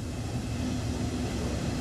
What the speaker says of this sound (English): watch our train depart